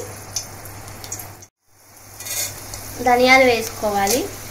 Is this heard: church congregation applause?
no